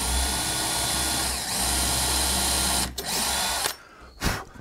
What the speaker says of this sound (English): drill a 1/4-inch hole about halfway through that back